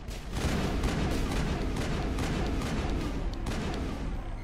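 Rapid, dense gunfire from radioactive rounds in Mass Effect, a loud continuous barrage of overlapping shots with no pauses for its whole short length.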